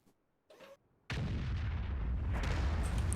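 An artillery gun in the tank game World of Tanks fires with one sudden loud boom, followed by a sustained roaring rumble that carries on to the end.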